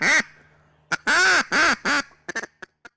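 A hand-blown duck call used by a hunter in the Grondines marshes imitates duck quacks: a loud opening quack, then a rapid run of three drawn-out nasal quacks, followed by several short, clipped chuckles that taper off, heard close with no talking.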